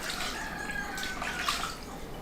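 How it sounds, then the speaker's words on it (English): Pieces of fish being washed by hand in a bowl of water in a village kitchen, with soft sloshing and dripping that stays faint and close, alone without talk. "I'll be washing my fish as I put it here"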